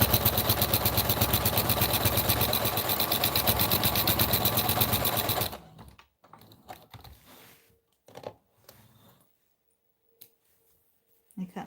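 A sewing machine hums in a fast, even run for about five seconds, sewing back and forth over the seam, then stops, leaving faint handling clicks and quiet rustling.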